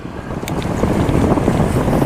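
Strong wind blows at a seaside food stall, a loud continuous rumbling buffet across the microphone with gusting texture and a brief click early on, no voices heard.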